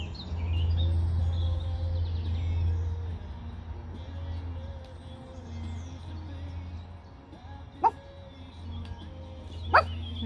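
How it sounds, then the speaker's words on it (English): Dogs outdoors giving a couple of short, sharp barks and yips at moderate distance over low background rumble, with faint birdsong in the air. "No barking."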